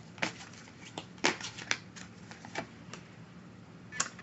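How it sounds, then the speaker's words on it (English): Oracle cards shuffled by hand, a series of crisp papery riffles and taps in uneven bursts. They are fairly close and moderately loud, with no talking. "As I shuffle the deck"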